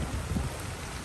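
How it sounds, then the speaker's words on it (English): Rain falls steadily during the rainy season in the Thai countryside, a dense, even hiss with a low rumble underneath, filling the whole moment without voices. "It's raining right now"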